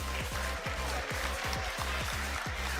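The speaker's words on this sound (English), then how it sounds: "can I get a big round of applause" An esports finals crowd applauds in a dense, continuous wash of clapping, loud and steady throughout, with a rhythmic low pulsing underneath.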